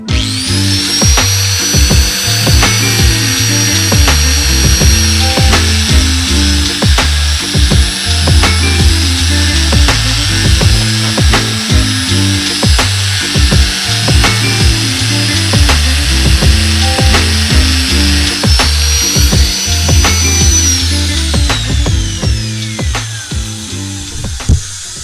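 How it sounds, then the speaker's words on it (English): A power tool trims the end of a fiberglass surfboard, giving a loud, continuous high whine with a rapid pulsing grind as it cuts, steady for about twenty seconds before winding down. "I'm going to trim the end of the surfboard that we need to trim for the actual construction"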